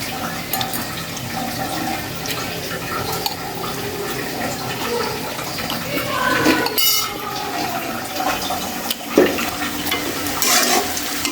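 Onions fry in a pan of oil for a fish curry, giving a steady sizzle with stirring scrapes and a couple of sharper clatters near the utensil.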